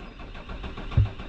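A car engine cranks and catches on its newly fitted injectors, a short low thump and rumble rising briefly out of a quiet background before settling.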